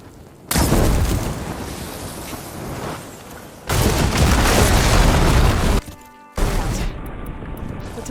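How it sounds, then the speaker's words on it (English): In Horizon Forbidden West, blaze barrels hit with fire ammo go off in loud, booming explosions: two long roaring blasts with rumbling tails, then a sharper burst after a brief gap. "Hitting those blaze barrels with fire ammo should do the trick."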